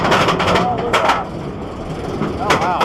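A Loch Ness Monster roller coaster train at Busch Gardens Williamsburg climbs its lift hill, giving a steady mechanical rumble with rail clatter from a distance while people talk nearby.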